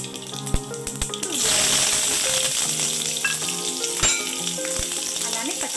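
Mustard seeds and cumin dropped into two tablespoons of hot oil in a pan for cucumber dal: a few clicks and taps, then a sudden loud, crackling sizzle that settles into a steady hiss with small pops.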